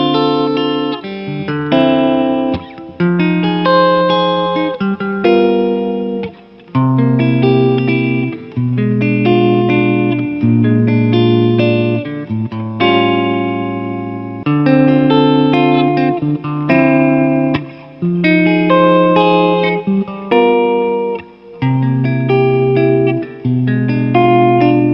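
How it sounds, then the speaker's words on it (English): Electric guitar with both humbuckers in the middle pickup position playing a sequence of clean jazz chords, each ringing and sustained with brief gaps between, loud and close with no talk. "now let's hit up the middle position with both humbuckers engaged and play a few little jazz chords for you"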